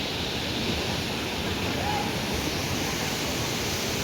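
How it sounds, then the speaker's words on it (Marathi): Small river flowing beside a riverside Mahadev temple built on a large rock at Dugwe, heard as a steady, continuous rushing wash of water that holds even throughout. "छोटीशी नदी वाहते"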